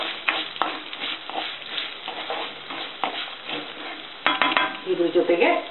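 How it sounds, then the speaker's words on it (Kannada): Coriander seeds stirred and frying in a pan for a rice-and-lentil dish, a steady crackling sizzle with scraping stirs, louder clattering toward the end. "ಫ್ರೈ ಮಾಡ್ಕೊಳ್ಳೋಣ"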